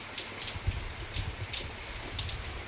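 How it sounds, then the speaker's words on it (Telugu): Rain falling steadily outdoors, a soft continuous patter with scattered individual drops landing on surfaces, no voices. "మొత్తం వర్షం పడుతుంది"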